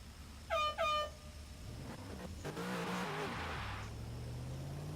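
A Lexus SC300 drift car at a qualifying event gives two short, close horn honks, then its engine revs and builds into a sustained drone as it pulls away.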